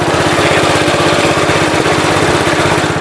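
A 1967 Gravely 430 walk-behind tractor with a cracked frame runs close by, its small engine chugging loudly and steadily in an even, rapid thump.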